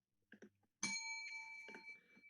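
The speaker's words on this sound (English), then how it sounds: "I'm going to ring this bell" A bell is struck once to open a round of a gaming grudge match, ringing bright and sustained for over a second. Faint voices are heard before the strike and also murmur underneath the ring.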